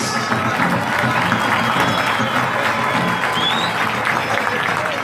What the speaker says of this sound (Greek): Ένα θερμό χειροκρότημα για όλες τις ομάδες.